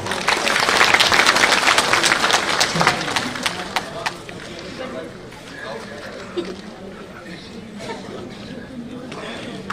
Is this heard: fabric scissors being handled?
no